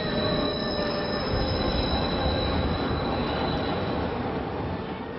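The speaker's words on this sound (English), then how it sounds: "We got a train going down the center of our street, elevated train. The sounds we hear are screeching sounds." An elevated train squeals and screeches loudly on its rails above a city street, a continuous metallic wheel shriek with a steady rumble that holds for the whole stretch.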